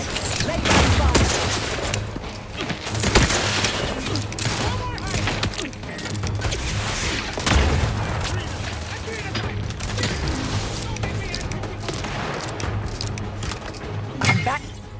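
Sustained automatic gunfire in The Outer Worlds 2, a dense, steady fusillade with heavier thumping shots standing out every few seconds, loud throughout.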